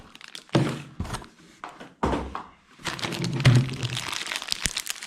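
Close crinkling and rustling of the plastic bag holding an MJX 10208 RC car transmitter, coming in several short bursts with quiet gaps, ending in a longer stretch of crumpling.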